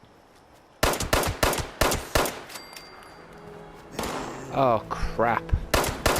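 Turret gunfire in Fallout 76, a burst of loud sharp repeated shots in rapid succession, then more shots mixed with game voices and a man's brief spoken reaction.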